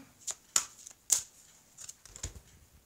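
Oversized tarot cards are handled and drawn, producing several sharp, close papery snaps and flicks followed by softer shuffling rustles, quiet overall.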